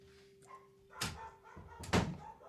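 A small dog barks in two short bursts, moderately close, with a faint thud-like edge and quiet room tone between them, during a live show recorded in a kitchen.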